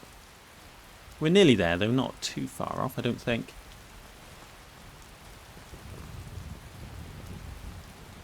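Steady rainfall hisses across a Skyrim landscape while someone speaks briefly over it, the soft wash continuing alone once he stops.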